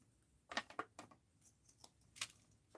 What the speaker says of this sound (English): And let's cut it like this and like that, and trim it to size